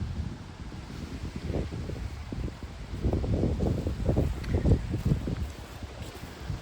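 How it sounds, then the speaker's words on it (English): Gusty wind buffets the microphone outdoors in a garden after a rainstorm, a low rumbling roar that swells and fades in uneven bursts with no voices. "I apologize for any background noise because it is windy after this rainstorm."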